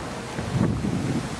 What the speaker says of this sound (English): The wind is kind of blowing